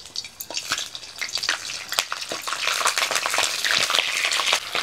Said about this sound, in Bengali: প্রথমে ফুলকপিগুলো ভেজে নেব।